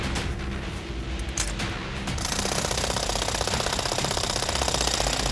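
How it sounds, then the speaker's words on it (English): A loud hydraulic wrench hammers away at a bent railroad rail-joint bolt in a rapid, continuous mechanical rattle, close by and getting more intense partway through. "bring in the high-powered hydraulic wrench to loosen the last remaining bolt"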